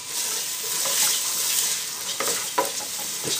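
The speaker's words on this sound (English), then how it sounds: "onion, celery, garlic with a bit of thyme. That all goes in. I'm going to give that a good stir" Onion, celery, garlic and thyme sizzle in butter in a pan while being stirred, a loud, close, continuous hiss broken by a few scraping stirs.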